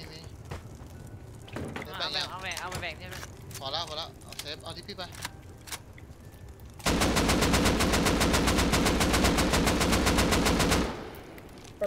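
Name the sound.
gunfire in the video game Rust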